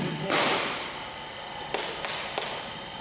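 Cricket ball struck by a bat during a net session at an indoor cricket centre: one loud, sharp crack near the start, followed by a few fainter, shorter knocks later in a roomy space.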